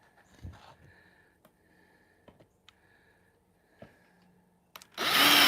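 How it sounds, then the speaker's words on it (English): A power drill starts up loudly near the end, a sudden close whirring burst while building a raised garden bed, after several seconds of quiet clicks and small knocks. "Wrong drill."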